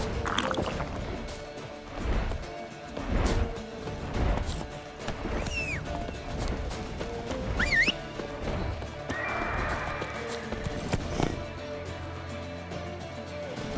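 A horse in The Witcher 3 galloping with steady rhythmic hoofbeats under a loud, busy game soundscape, with occasional whinnies and sharper effects on top and no one talking.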